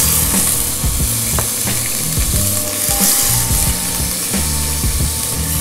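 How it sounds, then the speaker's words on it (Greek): Diced tomato sizzles loudly in a pot with wine and oil, a constant frying hiss with scraping stirs and clinks of a utensil against the pot, close up and without talk. "Την γλασάρουμε την ντομάτα και τη ρίχνουμε στην κατσαρόλα."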